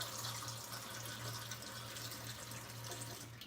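Water pouring from a tap into a cooking pot, a steady faint rushing stream with a low tonal hum underneath, no one speaking.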